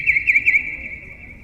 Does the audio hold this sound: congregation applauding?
no